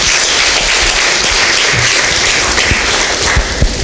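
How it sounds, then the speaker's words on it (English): Audience applauds student speakers after a series of talks, with close, loud, dense clapping from a crowd and a few sharper individual claps standing out, continuing without pause. "Let's give a round of applause to our student speakers."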